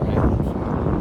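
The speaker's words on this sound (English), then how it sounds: "it might be a little windy. Got this nice breeze." Wind buffets a microphone in a steady, close rumble outdoors near the ocean in Africa, a continuous breeze with no break.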